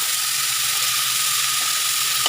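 Small kachali fish frying in hot oil in a kadai, a steady, close hiss of bubbling oil that holds evenly throughout with a faint tap near the end.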